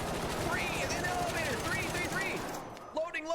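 Rapid bursts of automatic gunfire ring out during a co-op shooter video game, crackling continuously under overlapping talk before tapering off near the end.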